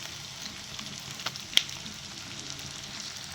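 Ginger garlic paste frying in a pan for an onion poori kurma, a continuous soft sizzle with a few sharp clicks of a spoon stirring against the pan, no talking.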